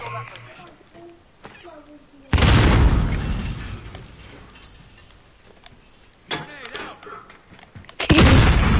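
Bomb blasts in a PS4 shooter game: a loud burst of rumbling noise erupts, decays over several seconds, then a second sharp explosion follows near the end, with game sounds and someone talking in between.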